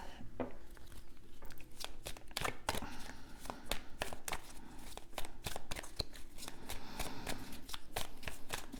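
Tarot cards shuffled for a reading, a fast run of crisp riffling snaps and slaps that repeats steadily through the whole stretch, close and fairly loud with no talk.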